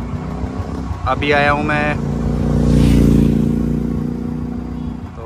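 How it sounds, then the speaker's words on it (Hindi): A Royal Enfield motorcycle idles steadily in the evening with a deep, constant engine thrum, while someone talks close to the microphone over it. "आप देख सकते हैं बाइक मेरी स्टार्ट है"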